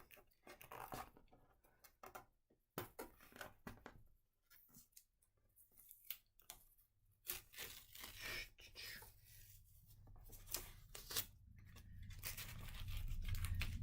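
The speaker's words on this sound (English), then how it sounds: "we're going to peel off all this painter's tape. So start at a corner and you're just going to peel" Painter's tape peeled slowly off a painting canvas, heard as close, crackling rips and tearing bursts with short pauses that grow into a longer continuous strip near the end, with no talking.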